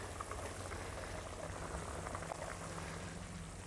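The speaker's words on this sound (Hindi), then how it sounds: "ये देखिए अब बॉयल आना शुरू हो गया इसमें" Beef nihari just coming to a boil in a pot after half an hour of cooking, a faint, steady bubbling simmer heard alone.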